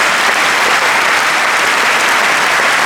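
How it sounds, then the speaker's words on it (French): Loud, dense applause from an audience at the Concours Général prize ceremony, a continuous wash of many hands clapping at steady intensity throughout. "On l'applaudit très très fort."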